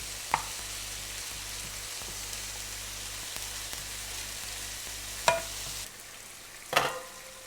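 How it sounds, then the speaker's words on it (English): A pot of meat sauce coming to a boil, a faint steady bubbling hiss under a low hum, broken by a few sharp clinks and knocks of the pot. "And as you can see, it's starting to boil here, which is good."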